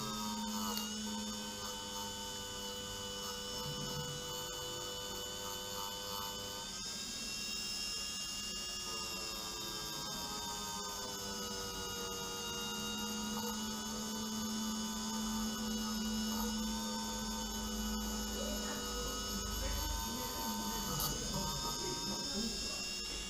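A steady motor whine with a scratchy, grinding rasp of a chuck-mounted wire brush scrubbing rust off Kawasaki 650SX jet ski intake metal at low RPM, continuous and close throughout.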